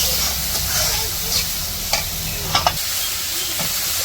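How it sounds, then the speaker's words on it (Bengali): Vegetables stirred into cooked masala of turmeric, chili, ginger-garlic paste and salt for a country fish curry, a continuous loud sizzle with scattered scraping stirs and a couple of spatula clicks. "তো যে মশলা কষানো হয়ে গেছে সবজি দিয়ে দিতেছে"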